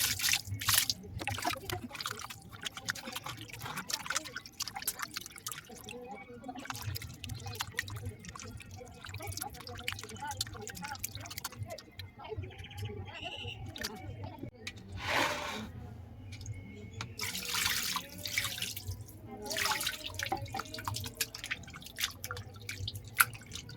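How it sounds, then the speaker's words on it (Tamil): Running water from a sink tap splashes and trickles as raw meat is washed by hand, with irregular drips and splashes near and fairly loud, and a voice speaking at times over it. "ஒன்றுக்கு 2-3 தடவை கழுவுனா தான் உள்ள ரத்தம்லாம் போகும்."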